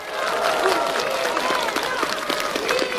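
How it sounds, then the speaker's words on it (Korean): A large crowd at an outdoor presidential campaign rally in Jeonju applauds and cheers steadily, a dense wash of clapping close and loud for the whole stretch. "크게 박수 쳐주시기 바랍니다."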